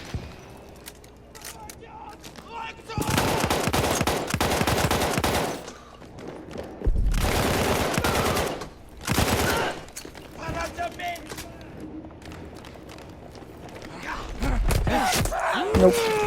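Rapid bursts of automatic gunfire and single shots in the World War I shooter game Battlefield 1, loud volleys separated by quieter gaps, with a player talking over them.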